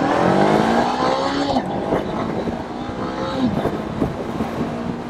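A Honda CB500X motorcycle leans through a turn with its engine note rising and falling in sweeping pitch as it accelerates, loud and steady under wind noise.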